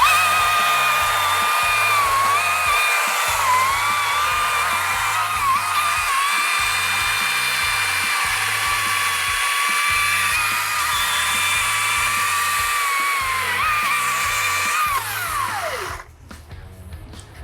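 A high-pitched 20-inch battery chainsaw running at high speed whines steadily as it cuts through wood, loud and continuous, then winds down and stops near the end.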